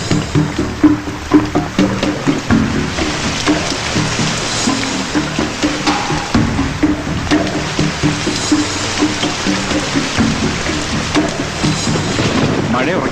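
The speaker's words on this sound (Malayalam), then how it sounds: "മഴ ഉറയ്ക്കുന്ന ലക്ഷണം." Heavy rain pours steadily and loudly throughout, a dense close wash of drumming drops with a few sharper splashes, with no voices heard.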